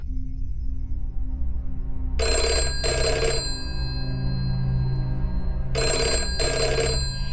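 Telephone ringing down the line in a radio drama, two double-burst rings a few seconds apart, bright and clear over a low steady hum.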